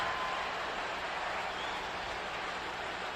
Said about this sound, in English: Crowd is starting to become a little delirious.